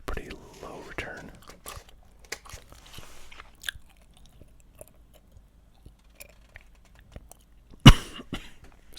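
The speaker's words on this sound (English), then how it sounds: "Sudden cough, come on." A single sharp cough bursts out once, loud and close, among soft mouth noises and quiet whispery sounds.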